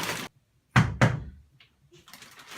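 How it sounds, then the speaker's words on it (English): Loud knocking on a wooden door during a staged Romeo and Juliet performance, a burst of two or three heavy, close blows after a short noise, followed by quieter rustling and room sound. "Who knocks so hard?"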